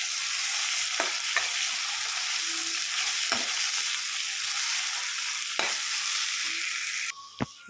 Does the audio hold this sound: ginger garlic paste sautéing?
yes